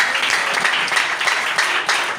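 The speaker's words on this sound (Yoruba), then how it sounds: "pàtẹ́wọ́ fún Jésù. Clap Jesus." A church congregation claps together in a sustained burst of applause, dense and fairly loud throughout.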